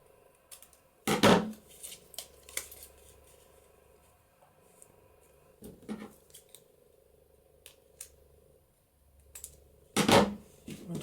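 Scissors cut corners off a paper craft tag in three short, crisp snipping bursts spaced several seconds apart, close and alone with quiet pauses between.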